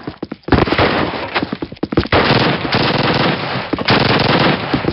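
Dense, loud automatic gunfire from the Call of Duty Warsaw Factory mission, with sustained bursts of machine-gun fire and rapid shots overlapping almost continuously.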